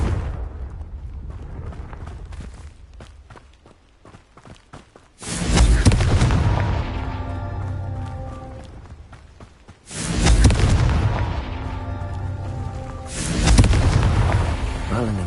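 Fiery explosive spell blasts from the Confringo curse in the Hogwarts Legacy video game, two or three loud booming bursts with long rumbling decays, each following a quieter stretch of game ambience.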